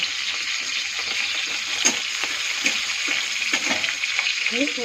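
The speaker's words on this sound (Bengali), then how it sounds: "1 চামচ হিং ছেড়ে দিব।" Asafoetida dropped into hot oil with green chilies already frying, a close continuous sizzle broken by soft spatters and light stirring taps.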